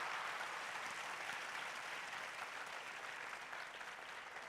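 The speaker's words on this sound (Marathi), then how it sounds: "सरांच्यासाठी जोरदार टाळ्या होऊ द्यात" Steady, dense audience applause for a speaker at the Kalyan VEDH 2015 event, many hands clapping continuously at a distance for several seconds with no voices over it.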